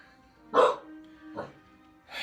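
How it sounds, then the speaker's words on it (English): A dog gives three short barks spaced across about two seconds, close and fairly loud, with a quiet room behind. "It's upset my dog, Priscilla."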